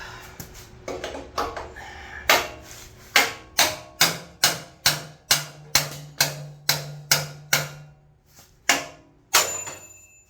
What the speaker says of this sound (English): See if a chisel will take the rest of this off.